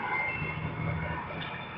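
A heavy truck's engine brake engages as the driver skips a gear on the way up to sixth, giving a steady, loud, low diesel drone that holds unbroken for the whole stretch with no talking.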